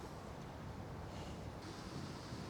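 Strong wind blowing outdoors, a steady broadband roar with gusty low rumble filling the whole clip, loud and continuous with no voices.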